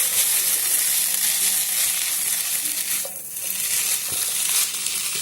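Maggi noodles being stirred with vegetables and masala in a hot pan, a continuous loud sizzle with scraping stir movements and a brief dip in the middle, no voices.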